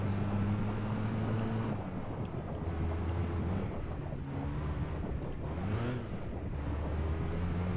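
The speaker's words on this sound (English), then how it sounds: "This sounds like a Toyota Camry or something. This barely has an engine noise in the first place." A very quiet car engine in Gran Turismo 2 hums low and steady, its pitch stepping up and down through gear changes under broad wind-like road noise, with no voices.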